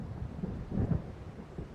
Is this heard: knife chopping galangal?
no